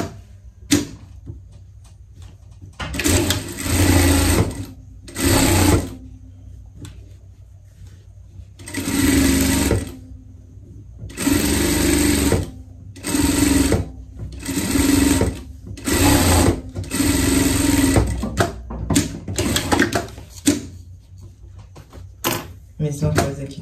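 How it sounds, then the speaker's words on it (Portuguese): A sewing machine stitches a ladybug-style pet dress in repeated close, loud bursts of rapid whirring, alternating with stretches of talk. "Vamos passar uma costura aqui por tudo, só deixar aqui em cima pra gente tá virando a nossa peça"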